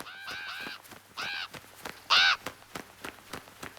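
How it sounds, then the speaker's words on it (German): Raven croaking as a storytelling sound effect: several harsh, separate caws, the last one loudest and closest, with soft clicks and faint background between them and no talking. "Plötzlich krächzt einer der Raben."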